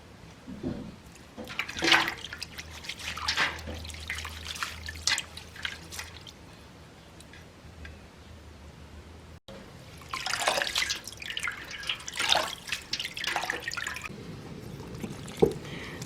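Agar seaweed being washed by hand in water: close splashing, dripping and sloshing come in irregular bursts, with a quieter stretch in the middle, and no one speaks.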